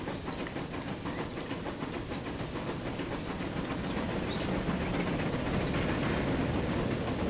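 A train in the rail simulation game Transport Fever runs steadily along its tracks, a continuous rumbling drone with faint rhythmic clacking that swells slightly toward the end, with no talk over it.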